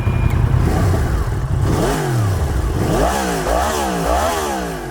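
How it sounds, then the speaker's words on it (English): Husqvarna Vitpilen 701 motorcycle engine running loudly up close, revved repeatedly with sharp rising and falling pitch sweeps over a steady rumbling idle, no talking. "It is the Husqvarna Vitpilen 701."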